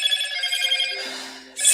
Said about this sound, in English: It's really loud. I just got a notification.